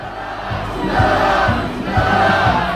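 Protest marchers chant a slogan in unison on a street march toward the presidential office in Yongsan, Seoul, a loud crowd of voices rising in rhythmic shouted bursts roughly every half second.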